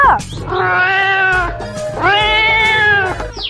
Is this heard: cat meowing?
yes